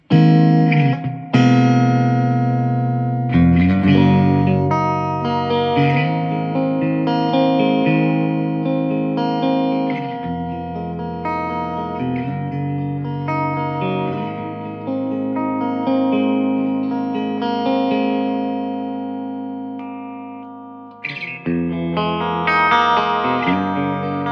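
Electric guitar played through a 1967 Fender Princeton Reverb amp with the reverb set around 3.5, ringing chords and notes washing into a lush, sustained reverb tail, loud and close with no talking.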